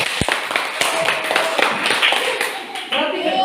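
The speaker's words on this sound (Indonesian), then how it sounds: "Oke, berikan tepuk tangan untuk kelompok 1." Schoolchildren in a classroom clap for a group of classmates, a loud burst of uneven hand claps mixed with talking voices.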